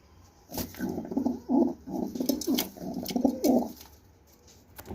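Pigeons coo in a run of soft, throaty bursts close by, several coos following one another before it falls quiet.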